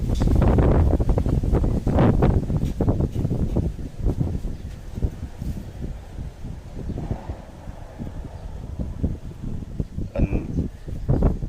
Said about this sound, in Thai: ลมแรงแรงพี่น้องเลย